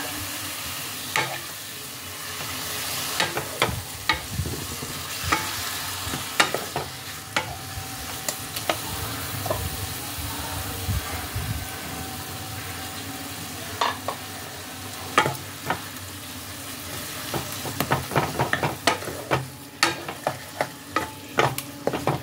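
Spices being stirred into radish in a pan for a prawn and radish ghonto, with steady sizzling and repeated scraping spatula strokes throughout, growing quicker and sharper toward the end, with no voices.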